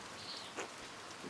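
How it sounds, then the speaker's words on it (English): Rain falls in the video game Pentiment, a faint, soft continuous patter with a slight rise midway, brief and quiet. "I hope this rain lets up for you soon."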